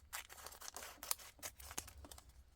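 Scissors snip through cellophane kept from packages, a quick run of crisp, close, rhythmic cuts with a faint crinkle, alone without speech.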